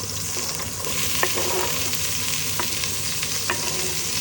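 Garlic, onion and celery sautéing in a hot pan for chicken adobo, a constant crackling sizzle broken by a few sharp stirring scrapes, close and fairly loud with no talking.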